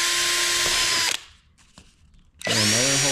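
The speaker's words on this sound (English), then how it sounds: "I'm gonna drill another hole" A power drill bores a hole into a homemade egg-carrying rocket, running loud and close for about a second. After a short gap, a second burst of drilling ramps up to full speed.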